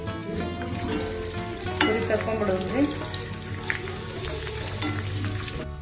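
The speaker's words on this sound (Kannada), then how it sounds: "ಪುರಿ ಕರ್ಕೊಂಬಿಡೋಣ್ರಿ" Puri dough discs frying in hot oil for pani puri, a steady dense sizzle running throughout with occasional stirring, close and fairly loud, with music playing underneath.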